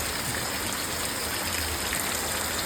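Gentle, steady rain falls outdoors in Botad village, a soft even hiss of drops with no pauses or voices.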